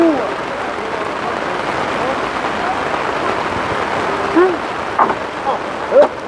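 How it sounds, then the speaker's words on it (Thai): Heavy rain pours down in a storm, a dense steady hiss with occasional louder gusts and splashes, while people talk over it. "มาพร้อมฟ้าพร้อมฝนแบบนี้"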